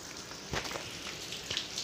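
Rain falls outdoors in a steady wash of soft hiss and scattered drips, with a couple of slightly louder splashes, faint and continuous through the short stretch.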